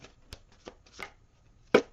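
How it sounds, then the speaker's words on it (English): A new, slippery tarot deck is shuffled in a few quick, papery riffles and slides that end in a sharper snap. Close, quiet and alone. "I'm going to shuffle them a few times. New deck, very slippery."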